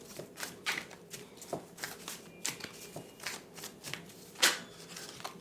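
Tarot cards are shuffled close up in a series of quick riffling and slapping bursts, irregular and fairly soft, with one sharper snap near the end.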